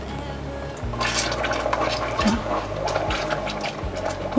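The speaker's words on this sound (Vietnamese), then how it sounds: "bây giờ mình sẽ cho vào đây nốt cái lon nước cốt dừa này" Coconut milk pours from a can into a thick palm-sugar batter for a baked Vietnamese cake. The pour is a close, continuous liquid stream lasting a few seconds. A steady low hum runs underneath it.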